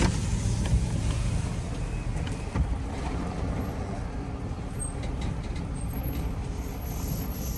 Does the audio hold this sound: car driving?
yes